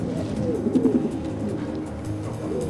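Pigeons cooing steadily with low, rounded calls close by, a soft continuous murmur of overlapping coos throughout.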